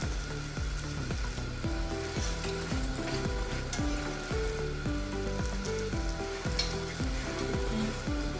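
A square layered paratha cooks in a pan over a very low flame, giving a steady, even sizzle throughout. A faint repeating tonal pattern runs underneath.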